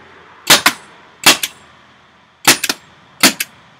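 Tippmann TCR paintball marker firing in four sharp bursts, mostly quick doubles, each a loud close crack with a short tail, separated by brief silence.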